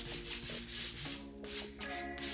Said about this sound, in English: I just have a little piece of sandpaper. This is probably 220 grit or higher at this point.